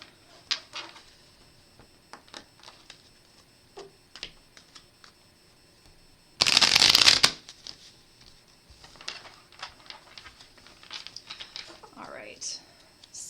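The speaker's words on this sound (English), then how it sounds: "We'll do one more of these nice hard shuffles." A hard shuffle of a tarot deck comes as one loud, dense riffle lasting under a second, set among quieter card handling, light taps and faint murmured speech.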